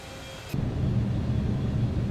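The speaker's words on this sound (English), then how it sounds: "Hear the engine spooling up because of the drag." In the X-Plane 12 flight simulator, an Airbus A320neo's engines spool up: after a brief quiet moment the level jumps to a steady, loud low rumble that continues to the end.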